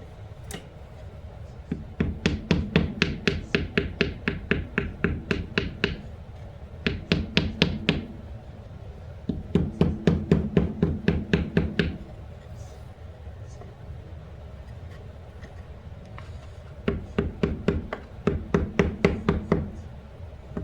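A part is hammered into a PTO flat belt gearbox in several separate bursts of rapid, sharp metallic strikes, each run of blows close and distinct, with quieter pauses between them.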